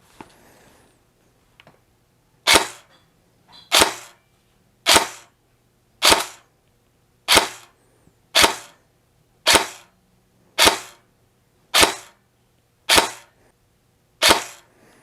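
An airsoft M4 rifle, a Matrix Sportsline G3 in the 300 FPS version, fires 0.2 gram BBs through a chronograph: ten single sharp snaps, evenly spaced about a second apart, loud and close in a quiet room.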